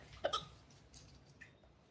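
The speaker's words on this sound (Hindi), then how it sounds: "हिचकी से हम परेशान हैं।" A few sharp hiccups from a woman, close and abrupt, spaced irregularly over a quiet background with no speech.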